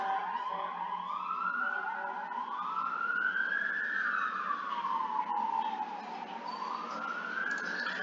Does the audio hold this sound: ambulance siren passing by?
yes